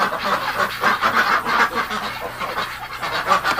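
Many ducks crowded indoors out of the cold keep up a steady, busy din of overlapping quacks and honks, close and loud throughout.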